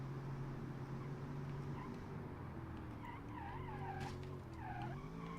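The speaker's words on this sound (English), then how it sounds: "It likes to smoke the inside rear wheel, which isn't ideal either for grip or for actually acceleration out of the corner" A car spinning its inside rear wheel with a viscous limited-slip differential, steady engine drone under wavering tire squeal and skid noise, loud and close throughout.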